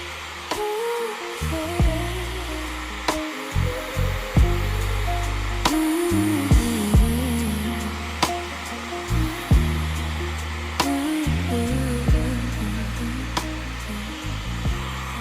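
Hair dryer fitted with a diffuser drying damp curly hair, a steady loud whooshing airflow running throughout with repeated soft bumps and knocks as the diffuser is moved around the hair.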